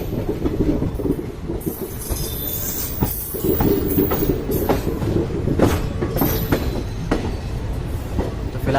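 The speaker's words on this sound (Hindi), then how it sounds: "तो फिलहाल अभी ट्रेन हमारी मेरठ सिटी जंक्शन पहुंचते हुए देखते हैं कौन सा प्लेटफॉर्म मिलता है" The Nauchandi Express passenger train runs toward Meerut City Junction, with a loud, continuous rumble of wheels on track, rattling carriages, occasional clacks and faint squeals heard close from inside.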